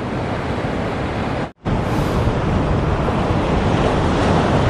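Calm ocean waves wash onto a beach in a continuous, rushing roar, heavily mixed with blustery wind buffeting the microphone, which briefly cuts out before the surf noise resumes.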